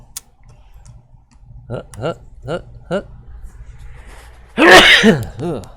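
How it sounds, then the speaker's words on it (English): A single loud, close sneeze bursts out near the end, after a few quiet clicks and brief voiced sounds. "I feel a sneeze coming on"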